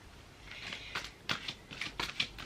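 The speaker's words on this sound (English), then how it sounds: "let's give these cards a shuffle" A deck of tarot cards being shuffled by hand at close range, a run of soft papery riffles and flicks building into several sharper bursts, with no talking.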